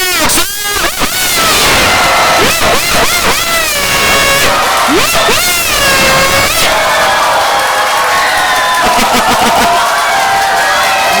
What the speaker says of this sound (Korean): 얼굴 보시면서 환호성에 박수!